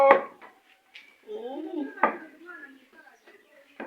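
Metal cooking pots clank sharply a few times, close and isolated, with speech around the impacts.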